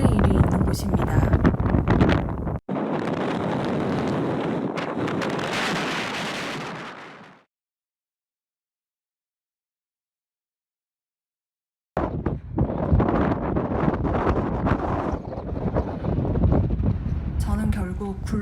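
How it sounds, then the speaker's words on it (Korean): Strong wind on a black volcanic crater trail in Iceland buffets the microphone with a loud, roaring rumble that cuts out to silence for several seconds, then returns just as forcefully. "바람이 어마어마하게 부는 이곳은 까만 화산 분화구 트레일이 있는 곳입니다"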